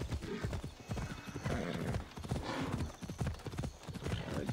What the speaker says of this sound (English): Aquí se brinca el caballo.